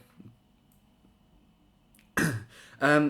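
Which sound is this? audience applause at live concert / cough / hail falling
cough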